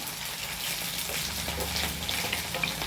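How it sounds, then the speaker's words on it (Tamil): Masala and tamarind fry in oil in a pan for a tamarind curry with ivy gourd, giving a steady close sizzle with light crackle throughout and no talking. "மசாலா எல்லாமே எண்ணெயில் நல்லாவே வதங்கிட்டு அது கரைச்சி வச்சுருக்கா நம்ம புளியை அது கூட சேர்த்துக்குவோம்"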